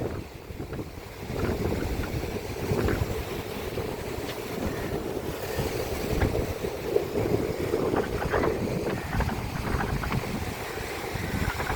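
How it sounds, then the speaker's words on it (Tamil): Steady rushing surf of a rough sea at a fishing shore and gusting wind blow across the microphone, a continuous rough roar of water with no voices. "அலைகள் கொஞ்சம் கொந்தளிப்பு அதிகமாக இருக்கிறதால"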